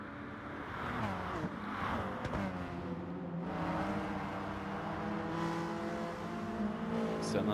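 Race cars drive in a racing video game, a continuous engine drone with shifting pitch as revs rise and fall, steady and fairly loud throughout.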